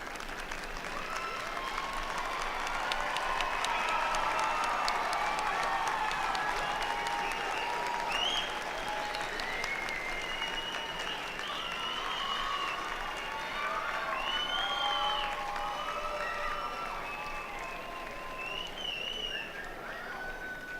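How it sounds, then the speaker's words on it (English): Graduating students at an Ohlone College commencement stand and applaud their faculty: sustained, dense applause from a large crowd with scattered cheers and whoops, steady throughout and fading slightly toward the end. "Students, will you please stand and applaud the exceptional faculty who have helped make your achievements possible."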